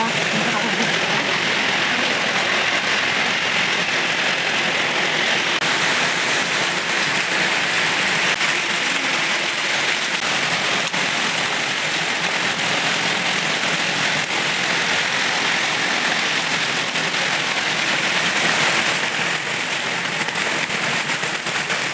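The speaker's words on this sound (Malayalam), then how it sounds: "പെരും മഴ" Heavy rain pours down steadily and loudly, a dense, unbroken roar of drops on surfaces lasting throughout with no pauses.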